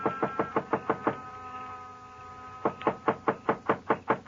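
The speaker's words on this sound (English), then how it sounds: "I knocked." Knocking on the door of a dark building at night, a run of six sharp raps, a short pause, then seven more, close and crisp with no voices.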